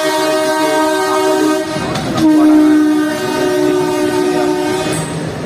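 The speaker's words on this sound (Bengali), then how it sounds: "স্পেশাল ট্রেন এই যে দেখছেন হরপর করে এগিয়ে আসছে আমাদের রেলওয়ে" An Urs special train from Rajbari, Bangladesh roars past loudly with a sustained horn blaring through most of it and rolling wheel clatter underneath.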